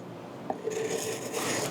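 A steel chisel back being honed flat on a Tri-Hone sharpening stone, with a soft, steady rasping rub of metal sliding across the stone, close and fairly quiet, with no talking.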